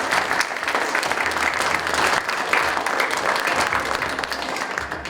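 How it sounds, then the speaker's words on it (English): A theater audience at a school production gives a full, even round of applause, with many hands clapping steadily at close range for the whole stretch and fading slightly at the close. "so give her a round of applause, and Taylor."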